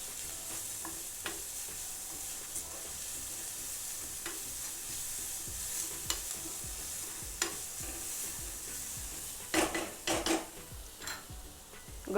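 Ridge gourd peels sizzling softly in a pan on low heat, a quiet steady hiss broken by scraping stirs and clinks of a utensil that grow louder toward the end.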